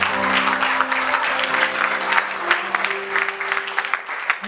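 A church congregation gives sustained, dense applause in praise of the Lord, with steady clapping over sung or held voice tones.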